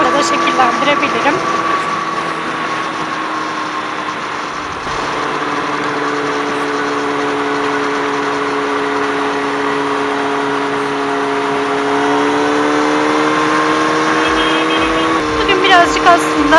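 Kawasaki ZX-6R 636 motorcycle engine while riding on the road, a steady sustained drone with slowly shifting pitch throughout, holding an even loudness with a slight rise near the end, no talk over it.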